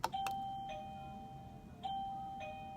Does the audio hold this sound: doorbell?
yes